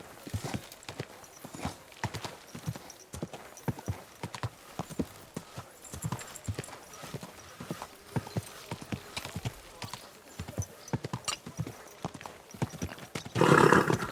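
Horse hooves clip-clop steadily while riding in the medieval game Kingdom Come Deliverance 2, a rhythmic stream of moderately loud footfalls, with a whinny and brief voices near the end.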